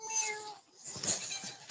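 A house cat meows in a drawn-out, tonal call near the start, followed by a softer, breathier second meow, close and clear with no speech over it.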